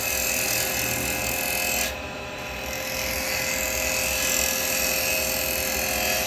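Carbide woodturning tool cutting end grain on a lathe, a continuous close scraping hiss with a brief dip near two seconds before the steady cut resumes.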